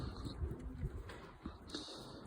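Pigeons in a loft with their young, soft low cooing calls heard faintly at close range against quiet background rustling.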